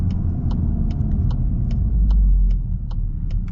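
A 2024 VW GTI with a DSG gearbox drives, its engine droning loudly with a low rumble and a brief swell as it downshifts, heard from inside the car under a regular ticking of faint clicks.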